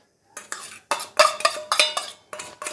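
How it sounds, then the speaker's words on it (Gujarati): Grated carrot tipped into a bowl and stirred with a spoon for Gujarati handvo batter, a series of close, soft scraping and clinking stirs in bursts with short pauses, no talk. "ગાજર નાખી દઈશું।"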